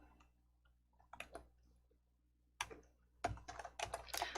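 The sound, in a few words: typing a file name on a computer keyboard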